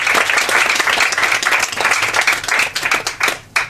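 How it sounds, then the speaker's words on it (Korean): Loud, close applause from an audience at a policy forum event, dense clapping that thins into scattered individual claps near the end. "정다희 아나운서님께 큰 박수 다시 한번 보내주시면"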